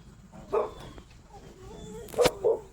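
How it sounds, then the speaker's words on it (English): A dog barks a few times at some distance, short separate woofs spread over a couple of seconds against quiet outdoor background. "I've got my dog over here barking."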